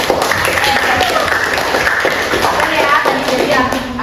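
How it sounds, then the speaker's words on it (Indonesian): Classroom applause for a student named Ardi after a lesson on pulleys, a steady patter of many hands clapping close by, with children's voices chattering underneath. "Tepuk tangan buat Ardi."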